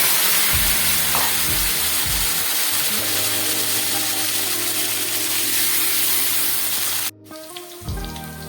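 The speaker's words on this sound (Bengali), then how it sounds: "মাছের মাথা ভাজা হয়ে গেছে, এবার আমি ওই তেলের মধ্যে দিয়ে দিচ্ছি আলুগুলো ভেজে নিচ্ছি" Potatoes fry in hot oil left over from frying fish heads, a steady close sizzle with low bubbling bursts that cuts off abruptly near the end, leaving a quieter tail.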